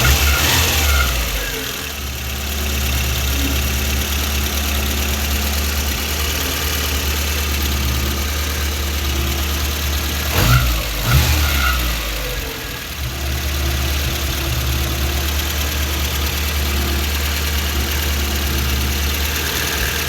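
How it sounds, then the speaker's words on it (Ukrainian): A rebuilt VAZ 21083 1.5-litre carburetor engine idles smoothly and steadily up close, with a brief rev or bump in the middle before settling back to an even hum. "Работает двигатель, шепчет"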